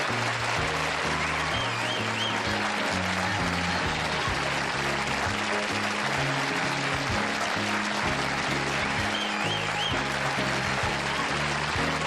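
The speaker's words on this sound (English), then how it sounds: "I'm humbled by that applause." A television studio audience on a late-night talk show claps continuously, a loud, even, unbroken roar of many hands with a faint tonal undertone beneath it.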